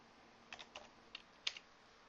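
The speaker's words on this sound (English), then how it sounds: "I'm simply typing the numbers in and using the down cursor key" Numbers are typed on a computer keyboard while entering spreadsheet data, a few sharp separate key clicks close up, with a firmer tap near the end and quiet room hiss between them.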